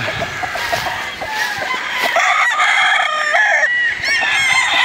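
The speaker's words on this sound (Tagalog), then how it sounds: "pasilip ko sa inyo yung aking pullets na may uwi sa Manila at gagamiting material na mga Dan Gray" Pullets and battle stags on a gamefowl breeding farm crow loudly and cluck close by, with several overlapping calls rising in the second half and no talking.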